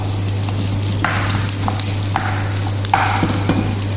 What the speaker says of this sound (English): have to saute onion and this our cumin seed